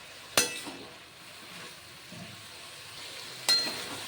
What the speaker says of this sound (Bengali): নাড়াচাড়া করে কষিয়ে নিচ্ছি মশলা আর লাউ একসঙ্গে।